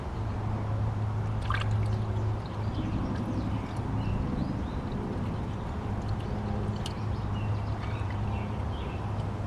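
Motor oil pours from a jug into a large funnel during an oil change on a Ford F150 with a 5.4 Triton V8, a soft, continuous trickling and gurgling flow with faint clinks, quiet and close, without talking.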